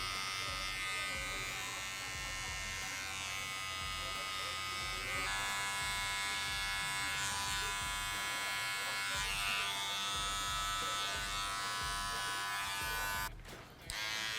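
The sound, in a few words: electric hair trimmer buzzing during a haircut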